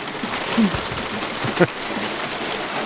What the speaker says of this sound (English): from the heavy rain.